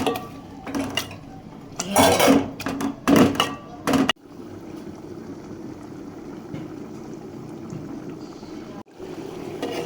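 Boiled thor dal gets pressed and mashed in a pot, a few seconds of close, rough scraping and knocking, then a steady low hiss of cooking.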